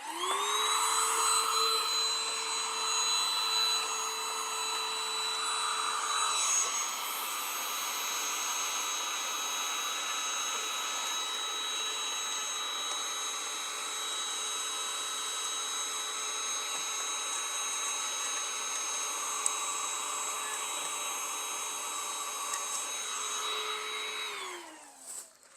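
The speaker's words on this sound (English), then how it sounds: "So let me go ahead and vacuum that up." A vacuum cleaner runs steadily, sucking lint out of the open compartment of a Babylock Vibrant serger, a continuous loud whine with a constant pitch that winds down and stops near the end.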